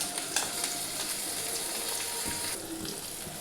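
Chopped tomato hits reddish-browned fried onions in a pan, producing a soft, steady sizzle with faint stirring, quiet and without any talk.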